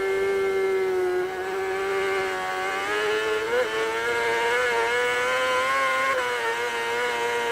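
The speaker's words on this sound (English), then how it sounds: "You can actually hear the revs of the bike sort of working up and down as the bike squirms on the back suspension" A racing motorcycle engine screams at high revs under hard acceleration, flat out in sixth gear on a road course, a steady loud whine wavering up and down as the bike squirms on its rear suspension.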